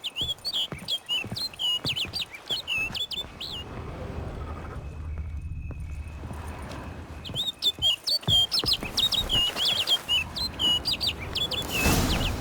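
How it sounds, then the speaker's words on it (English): A bird in the video game The Witcher 3 chirps in quick repeated tweets, clustered at the start and again near the end around a quieter middle stretch, over soft background ambience. "Looks like the bird's leading me somewhere."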